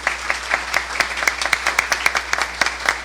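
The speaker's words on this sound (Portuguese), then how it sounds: "Merece palmas também." Steady applause fills a church opening ceremony for the Fraternity Campaign, many hands clapping in a fairly even rhythm at moderate loudness with no speech over it.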